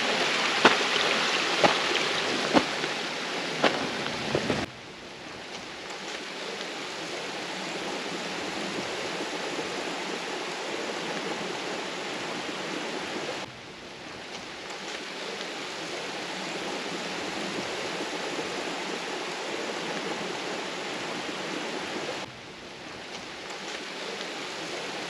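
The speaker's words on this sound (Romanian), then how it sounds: "Un mic uriaș care se varsă în râul Bistrița." A small stream pours into the Bistrița river outdoors, giving a steady broadband rushing flow that holds for the whole stretch, with two brief dips where the sound cuts and resumes.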